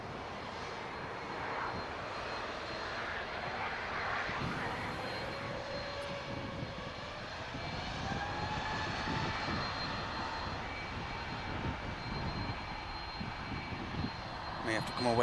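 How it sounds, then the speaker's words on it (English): A VistaJet jet aircraft lands at Manchester Airport, a steady rushing engine roar from a distance holding throughout, with voices talking over it. "Just watch the VistaJet touchdown."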